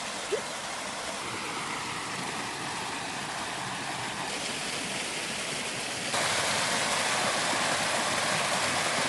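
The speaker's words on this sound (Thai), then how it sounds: "มีน้ำตกส่วนตัวด้วยแหละ" A broad, steady rush of falling water from a waterfall and stream in a garden fills the clip, a constant hiss-like roar that grows slightly louder near the end, with no talking.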